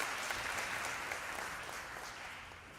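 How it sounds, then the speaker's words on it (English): Steady, fairly soft applause from an audience at an International Day of the Seafarer event, continuous clapping that slowly tapers off. "Please give yourself another warm hand of applause."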